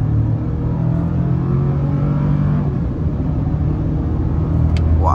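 A 2022 Chevy Silverado LT pickup with a turbo four-cylinder engine accelerates on a highway, a steady loud low rumble of engine and road noise filling the cabin throughout.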